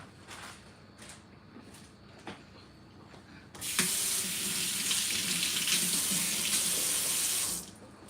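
Kitchen tap water running over fresh thyme for a salmon head soup, a steady close splashing rush that starts abruptly after a few seconds of quiet clinks and stops near the end, with no talking.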